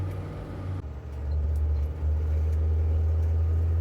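A car engine droning low and loud in first gear on a road in Colombia, the rumble deepening and holding steady after a shift in tone, no talk.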